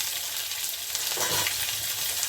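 Onions hiss and crackle in hot oil that has been tempered with dried red chillies, a steady close sizzle with a brief louder burst as they hit the pan.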